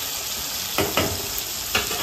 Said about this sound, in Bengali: আমি এখানে আলুটা ভাজা বসিয়ে দিয়েছি